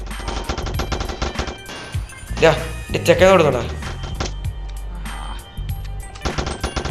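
Rapid gunfire bursts from a Spider-Man video game in a Christmas edition, fast repeated shots in clusters, loud and close, with someone talking over and between the bursts.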